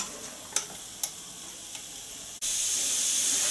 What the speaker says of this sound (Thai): เห็นไหมคะอันนี้จะเป็นควันที่ออกจากเตาอบนะคะ